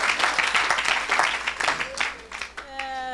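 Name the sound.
congregation applauding at church service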